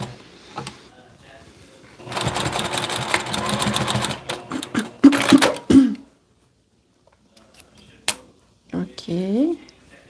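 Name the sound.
sewing machine stitching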